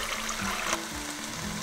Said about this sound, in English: Add 1/4 cup of water.